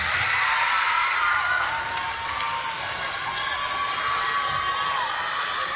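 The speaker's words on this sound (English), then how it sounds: "The crowd really getting into it." Spectators cheer at a school netball match at the World Schools Netball Cup, loud, continuous crowd shouting and whooping that stays at a steady roar throughout.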